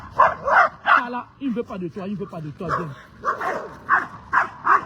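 A heavy dog barks repeatedly in short, rapid bursts close by, with yips and whimpering sounds mixed between the barks while a person talks over it.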